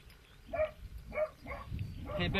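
Hunting dogs out on a beaver hunt bark in a few short, separate outbursts from a moderate distance, with a soft voice or whimper mixed in and low outdoor rumble underneath.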